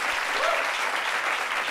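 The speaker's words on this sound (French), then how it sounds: "ça s'applaudit." Applause from a small group, steady, fairly close clapping filling the short moment with no voices over it.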